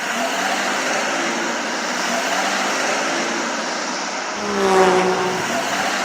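A LEGO animation toy car drives while new brakes are tested, giving a loud, continuous engine-like roar with a broad, rushing tone. A brief rising surge comes near the end.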